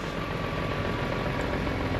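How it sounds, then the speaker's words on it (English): A 2004 BMW E46 M3 engine idles steadily nearby, a continuous low hum with a faint whine, unbroken for the whole stretch. "You hear the engine sounds healthy."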